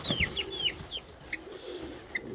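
Chickens at a small farm clucking in a quick series of short, bright calls, some near and some farther off, over a steady low background hum with no talk.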